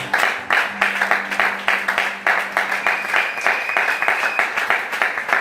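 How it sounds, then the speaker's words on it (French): A church congregation applauds together, a dense, steady wash of many hands clapping in a strong rhythm, fairly loud and close, with a held tone running faintly beneath. "Est-ce qu'on peut acclamer pour toi?"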